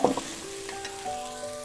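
Garlic and ginger sizzle in a pan while making chicken macaroni, a soft, steady crackling fry with a faint stirring clatter at the start and no voices.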